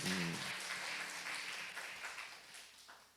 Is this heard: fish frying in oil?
no